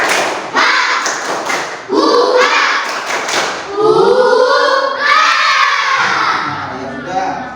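Schoolchildren at a volleyball practice session do a rhythmic spirit clap, sharp patterned claps followed by loud shouted chanting and cheering from the group, close and energetic.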